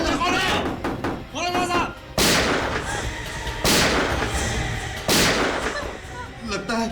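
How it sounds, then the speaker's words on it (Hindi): Three loud, sharp gunshot blasts ring out in a tense TV police drama scene, each with a booming tail, spaced a second or so apart, with voices talking before and between them. "सर गोली चलने की आवाज है।"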